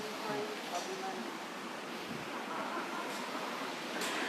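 Steady rushing water roars continuously, a broad, even wash of noise from a nearby waterfall at Meenpidi Para, Kottarakara, Kerala.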